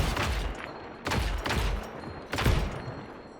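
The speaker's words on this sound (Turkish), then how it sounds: "Küçücük ampul nasıl patlıyor" A small lamp bulb exploding in Just Cause 3, heard as three loud, rough blasts about a second apart, each with a crackling tail over steady background noise.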